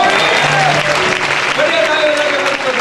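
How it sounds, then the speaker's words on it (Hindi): A church congregation bursts into loud, sustained applause in thanks to the Lord during a service, dense clapping continuing throughout while a voice speaks over it. "बढ़िया ताली बजा के प्रभु को धन्यवाद दीजिए"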